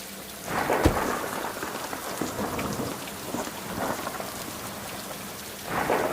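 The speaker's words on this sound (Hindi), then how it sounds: "अचानक तेज बारिश शुरू हो गई।" Heavy rain pours steadily with a dense hiss, broken by a few deep thunder rumbles near the start and again at the end.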